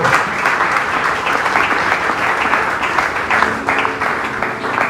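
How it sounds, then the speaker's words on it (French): A church congregation claps at a temple dedication service, sustained dense applause throughout with a faint voice briefly underneath. "Applaudissons le Seigneur pour cette parole"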